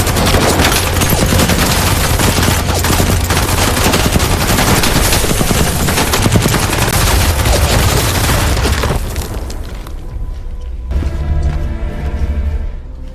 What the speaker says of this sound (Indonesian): dicegat oleh tentara Rusia sehingga kontak senjata pun terjadi